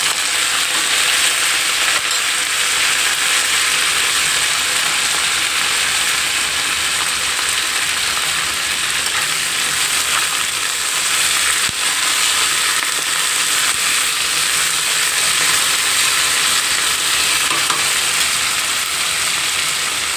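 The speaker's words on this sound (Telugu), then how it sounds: "ఇగోండి ఉల్లిపాయ, పచ్చిమిర్చి కూడా వేసేసుకోవాలి. అలాగే కరివేపాకు కూడా వేసుకోవాలి." Chopped onion, green chilies and curry leaves fry in hot oil for carrot rice, a loud, dense, unbroken sizzle and crackle heard alone from start to finish.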